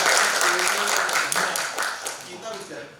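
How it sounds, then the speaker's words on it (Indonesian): Group applause in a classroom, a dense patter of many hands that fades steadily over a few seconds, with voices chattering faintly underneath. "Tepuk tangan."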